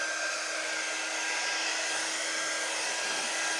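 A hair dryer blows over wet watercolor paint, a steady loud whooshing drone from start to finish with no voices.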